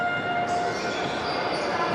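Plastic toy trumpets blare from the crowd at an Italian Serie A futsal match, holding a steady, loud, reedy drone over constant arena murmur for about two seconds.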